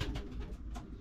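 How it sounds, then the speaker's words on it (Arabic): Large homing pigeons coo in a steady run of soft, low calls after landing during a training flight, close by and with no talk over them. "ها هما اللي نزلوا حمام كبير"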